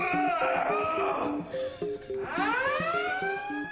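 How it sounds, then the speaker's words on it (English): A Planet Fitness gym lunk alarm: a wailing electronic siren sweeps up and down over a repeating beeping pattern, loud and continuous. "Planet Fitness also has their notorious Lunk alarm"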